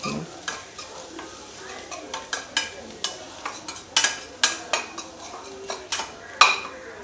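Chilli powder stirred into food in a pan, a spoon scraping and clinking against the metal in a steady run of sharp strokes over a soft sizzle, close and without talk.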